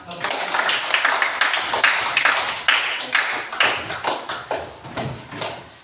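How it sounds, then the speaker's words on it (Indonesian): A classroom of students claps their hands for a teacher, a dense burst of close, overlapping claps that loosens into sharper, more separate strokes toward the end. "Tepuk tangan untuk Pak."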